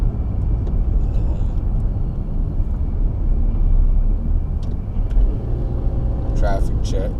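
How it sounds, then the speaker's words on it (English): A car moving through heavy Atlanta city traffic on a cold day, a steady low road rumble and tire noise with occasional passing vehicles and a brief rising whine near the end, continuous and moderately loud. "Bobbing and weaving through this crazy Atlanta traffic"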